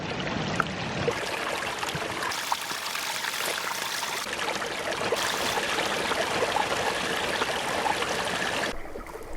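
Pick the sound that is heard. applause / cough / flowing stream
flowing stream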